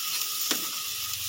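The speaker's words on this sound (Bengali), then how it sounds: "আলুটা দিয়ে একটু নেড়ে চেড়ে নেব।" Potatoes are stirred into a spice paste frying in oil, giving a steady close sizzle with a single sharp scrape of the spoon partway through.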